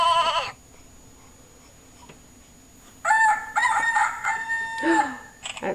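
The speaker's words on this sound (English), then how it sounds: "That's a rooster." A rooster crows from an electronic farm-animal sound toy, a loud, close, strained cock-a-doodle-doo lasting a couple of seconds, preceded by a brief clipped animal call and a quiet pause.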